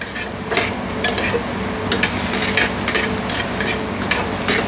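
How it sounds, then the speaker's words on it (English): Mushrooms sautéing with bacon and garlic in a pan, a steady close sizzle broken by repeated scraping stirs of a utensil against the pan, with no voices. "Now we saute till the mushrooms are wilted."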